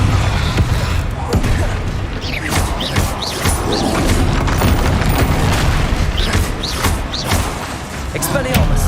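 Blasting spells crack and boom in the Hogwarts Legacy video game, a dense, loud barrage of explosive impacts and combat effects under a voice calling out spell names.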